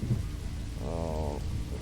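Steady rain hiss with low rumbling thunder in the Max Payne 2 video game, a continuous stormy wash throughout, with a brief tonal swell in the middle; no talking.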